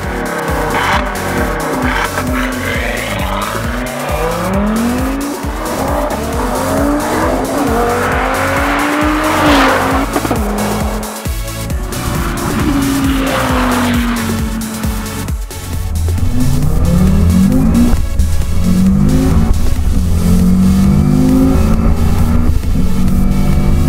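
An Audi TT RS with a tuned 2.5-litre five-cylinder engine revs hard and loud, rising and shifting through gears, with tires squealing as it accelerates close by.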